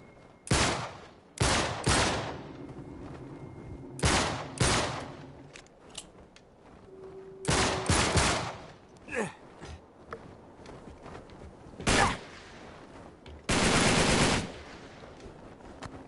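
Bursts of automatic gunfire from Uncharted 3 crack out repeatedly in loud, separate volleys with short gaps, alongside scuffling footstep-like movement and softer in-game sounds.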